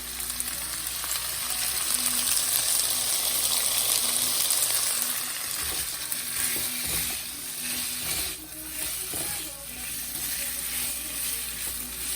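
A loud, continuous sizzle of pork and sticky rice cakes frying fills the pan, with scraping stirs and soft knocks breaking in toward the end.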